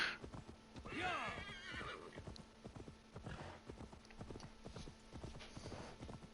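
A horse in a video game gallops with rapid, rhythmic clip-clop hoofbeats and lets out a loud whinny near the start, the hooves continuing steadily afterward.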